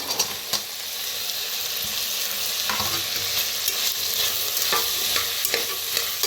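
Peanuts, peas, green gram and carrots roasting together in a pan give a steady, close hissing sizzle, broken by frequent scraping stirs of a spoon throughout.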